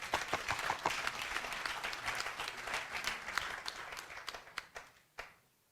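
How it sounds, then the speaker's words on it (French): Sustained audience applause fills a hall at an official launch ceremony, a dense wash of many hands clapping at moderate distance, thinning out into a few final claps before fading to near silence. "Moi, je vous applaudis."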